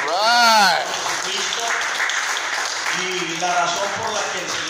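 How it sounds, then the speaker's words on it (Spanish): A church congregation claps under a preacher's voice, with sustained applause filling the room while he keeps talking and his voice rises over it. "fuerte palmas al Señor"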